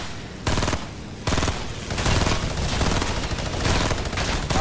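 A minigun fires in Fortnite, long dense bursts of rapid gunfire that start and stop, then roar almost continuously, loud and close.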